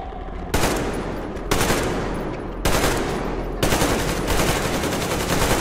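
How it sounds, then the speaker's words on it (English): Four loud bursts of automatic covering fire erupt in Metro Exodus, each sustained rattle of machine-gun shots separated by brief gaps, close and dominant with no talking. "Covering fire for the Colonel. No saving ammo!"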